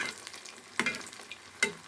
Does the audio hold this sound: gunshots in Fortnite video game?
no